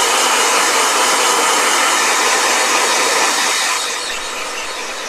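A blow dryer used on watercolor paint runs with a loud, steady broadband whoosh that drops slightly in level near the end.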